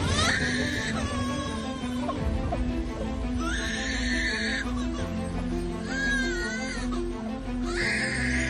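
A lyrebird mimics a baby crying, with repeated wailing cries rising and falling in separate bursts, loud and close, over a background of other sounds.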